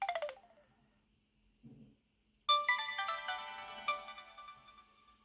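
A Samsung SPH-M500 cell phone plays a short descending power-off jingle, followed after a brief pause by a longer, brighter melodic phone tone with several chiming notes, heard alone without talk.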